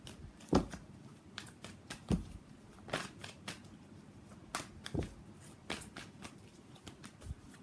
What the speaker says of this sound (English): So let's pull some cards from universe for final message